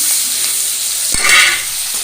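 Chopped onions hit hot oil in a pan and sizzle loudly, a bright hiss that surges as they go in, with stirring and scraping sounds through the close, steady frying and no voices.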